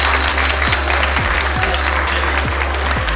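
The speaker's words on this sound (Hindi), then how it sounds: "सबसे पहले सब एक दफा क्लैपिंग करो" Loud, dense clapping from a crowd at a shopping mall lucky draw, a steady wash of many hands with no break, over a low droning hum and repeated sliding tones.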